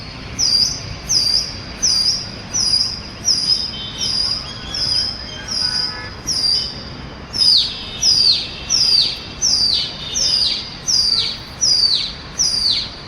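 Pigeons call in a repeated pattern, short bright calls recurring roughly every second over a soft rustling background, fairly close.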